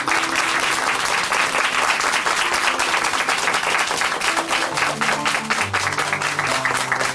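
An audience claps steadily at a Korean church testimony program, sustained dense applause at full strength throughout, with soft sustained tones underneath.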